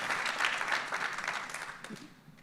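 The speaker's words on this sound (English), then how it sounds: "Everybody, please give Matt a huge round of applause" Audience applause fills a hall after a book conversation, a soft, steady crowd patter of many hands that gradually fades over a couple of seconds.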